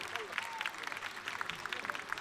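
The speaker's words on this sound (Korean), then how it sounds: "여러분, 모든 선수에게 큰 박수 부탁드리겠습니다." Crowd applause for riders at a Grand Prix show-jumping competition, a steady wash of many hands clapping at moderate distance, with a faint voice underneath.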